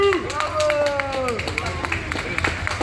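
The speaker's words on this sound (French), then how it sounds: "Allez, on applaudit." Crowd at a Gilets jaunes street protest in Strasbourg clapping in scattered, uneven bursts, with loud talk over it and a rising-and-falling whistle-like tone near the start.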